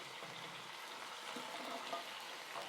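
Lamb shank chunks browning in a large pot, a soft steady sizzle and crackle of frying, faint and continuous with no talk.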